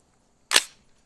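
A single sharp crack from a suppressed AR-15 rifle firing fast ammunition, sounding close with an abrupt loud onset and a quick decay into near silence.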